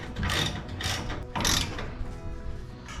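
A ratchet fitted with a deep socket tightens bolts on a boat trailer's guides, giving three quick rasping bursts of clicking pawl strokes close by, then softer slower clicks.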